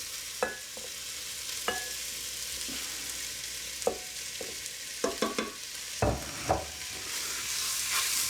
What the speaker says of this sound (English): And we'll fry all that up nice and brown.